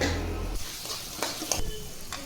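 Turmeric and salt are stirred into oil in a pan over low heat for kanda poha: a soft sizzle runs under scattered scrapes and taps of a spoon on the pan, close and fairly quiet.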